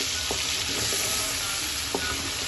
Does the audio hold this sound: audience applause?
no